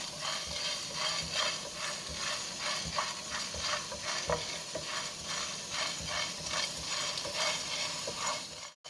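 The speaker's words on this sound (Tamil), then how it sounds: "எடுத்துருக்கிற மிளகு ஜீரகத்தை இதில் சேர்த்து வாசனை வர்ற அளவுக்கு நல்லா வறுத்து எடுத்துக்கலாம்" Black pepper and cumin being dry roasted in a hot pan, giving a steady close sizzle and scratchy stirring and rattling of spices throughout, with no talk.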